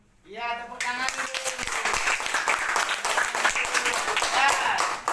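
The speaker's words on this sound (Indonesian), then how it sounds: "Iya, tepuk tangan dulu." Classroom applause breaks out after a short vocal sound and continues as dense, even clapping from a group of students for several seconds.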